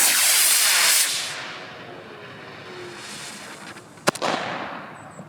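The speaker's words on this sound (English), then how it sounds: "I started with the control, a standard launch off of a 1/8 inch rod." Model rocket launching off a 1/8 inch rod: a loud roaring hiss of the motor burst at the start that fades as it climbs away, then a sharp crack and some distant rustle near the end.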